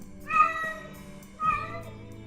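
Two clear cat meows, close and alone, one after the other with a short pause between.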